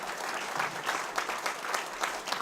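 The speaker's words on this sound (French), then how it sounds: "je voudrais qu'on les applaudisse très très fort" A debate audience of about 420 applauds the speakers, dense continuous clapping with rhythmic surges, fairly loud and close, with no speech over it.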